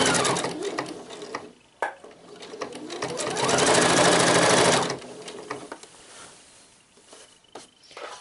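A sewing machine stitches an elastic shirred summer dress in close, rapid whirring bursts, building to a sustained loud run before stopping, followed by quieter handling noises of fabric.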